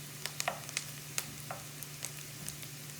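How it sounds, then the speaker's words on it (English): Bacon and onions frying together in a pan, a steady soft sizzle broken by scattered sharp crackles and pops, with no talking. "you can see the bacon is getting nice and crispy. The onions are starting to brown up a little bit."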